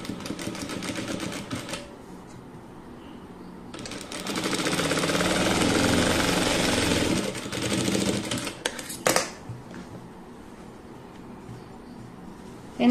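A sewing machine stitches fabric in a joining seam, starting with a short burst, then running steadily for several seconds before stopping, followed by a few clunks and handling sounds nearby, with no speech.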